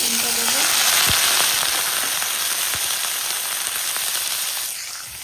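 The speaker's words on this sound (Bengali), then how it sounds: "চলো বাঁধাকপিটা রান্না হচ্ছে" Cabbage frying in a home kitchen pan, a steady broadband sizzle throughout with occasional crackles and pops, loud and close, easing slightly near the end; a faint brief voice-like tone appears at the start.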